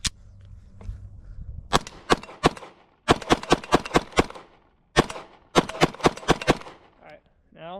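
Repeated pistol shots fired with a Cloud EPL weapon light mounted, in quick strings of two to six sharp, loud reports separated by short pauses during a recoil control test.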